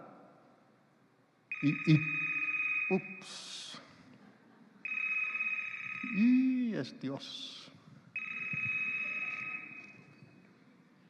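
A mobile phone ringtone sounds in three loud electronic bursts separated by pauses, with someone speaking over and between the rings in a church setting.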